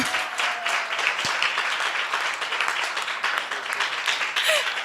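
An audience at a youth worship service applauds, with dense, sustained clapping from a crowd that stays loud throughout the few seconds, with no one speaking over it.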